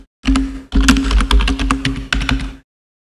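Keys clatter on a computer keyboard as text is typed, a close, fast run of crisp clicks in quick bursts with a short pause, then silence at the end.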